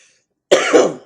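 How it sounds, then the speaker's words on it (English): A single short, harsh cough breaks the silence, close and loud, with a quick second burst trailing off. "It's just a cough, people."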